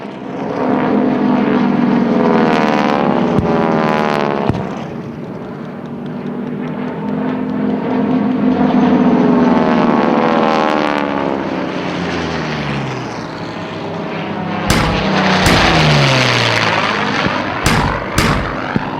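Propeller-driven WWII dive bombers and fighter planes roar loudly and continuously during a Pearl Harbor attack reenactment, their engines droning and shifting pitch as they pass overhead, with sharp cracks near the end and no talk.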